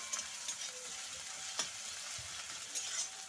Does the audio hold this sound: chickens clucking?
no